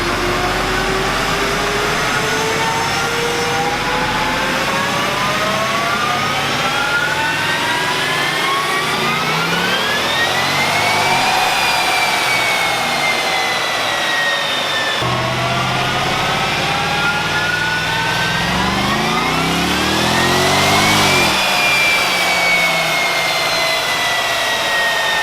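A Corvette V8 fitted with a ProCharger supercharger revs hard through a full pull, its loud steady drone and supercharger whine climbing in pitch, easing off, then climbing sharply again, heard close and with no talk.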